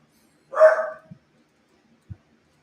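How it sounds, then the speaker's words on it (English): A dog gives one loud, sharp bark up close in a quiet room, followed by two soft thumps and then silence. "I don't know what the hell she's barking at."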